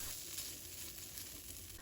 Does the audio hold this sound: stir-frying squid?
yes